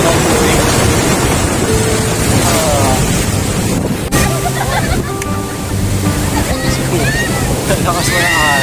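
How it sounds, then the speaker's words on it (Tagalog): Powerful ocean waves crash and surge amid gusty wind noise at Patar Beach in Bolinao, Pangasinan, with a voice talking over the rushing water. "So sobrang lakas po ng alon."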